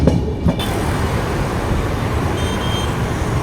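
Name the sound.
local train passing on parallel track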